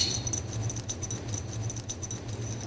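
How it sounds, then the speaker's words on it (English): A bunch of keys jangles and clinks rhythmically, like swinging with each step, close by over a low background hum. "it's nothing like hearing the clank, clank, clank of a set of keys"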